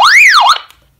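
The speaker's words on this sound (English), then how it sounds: "If you hold it down, it will do the alarm." A Retevis RB27V MURS handheld radio sounds its alarm tone, a loud, close electronic warble that sweeps up and down in pitch for about half a second and then cuts off.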